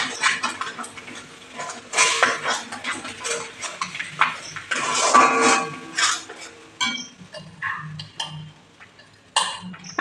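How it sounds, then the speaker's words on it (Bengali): A pan of ginger paste and spices for a vegetarian stuffed pointed-gourd dish being stirred, with bursts of scraping and clattering utensil strokes against metal, close and fairly loud, pausing between rounds. "একটু নাড়া দিয়ে নেবো।"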